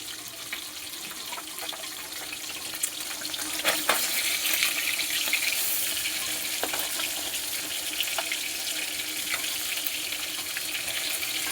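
Rui fish pieces fry in hot oil in a pan, a steady, loud hiss and sizzle that swells after a few seconds and holds, with occasional sharp pops and spatters.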